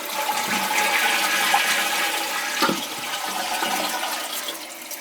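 A toilet being adjusted for a flush a little over 1.6 gallons rushes with water for several seconds, a steady close gurgling swirl that ends with a fainter refill trickle.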